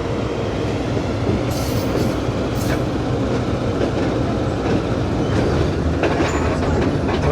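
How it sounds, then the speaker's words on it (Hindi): The Pak Business Express passenger train running along the rails near Kotri Junction, Pakistan, heard from onboard as a loud, steady rumble with rhythmic wheel clatter and occasional faint squeals, without talk. "दोस्तों ट्रेन अभी हमारी कोटरी जंक्शन से गुजर रही है जी।"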